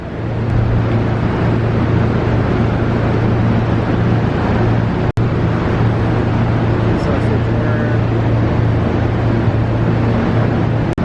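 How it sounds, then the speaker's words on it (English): A car engine runs hard on a dyno in a workshop, a loud steady drone with a strong low hum that holds at constant pitch and breaks off only briefly midway. "John is also tuning a car on the dyno right now"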